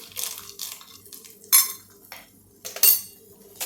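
Roasted, peeled peanuts are tipped into a mixer jar, producing a handful of short rattling clinks and patters in separate bursts, with quiet pauses between them.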